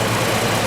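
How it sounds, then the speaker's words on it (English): Engine of a 2006 GMC Envoy with a charging fault running steadily at idle, a loud, even drone heard close up without pause for under a second. "See if I can talk over this running engine."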